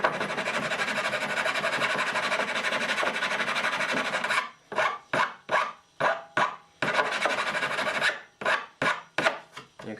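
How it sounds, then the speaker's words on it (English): Hand file rasping along the front edges of wooden bridge wings to bevel them, first a steady continuous scraping run, then a series of short, evenly spaced strokes, a second sustained pass and more quick strokes, close and alone. "I like to bevel these front edges a little bit on the wings"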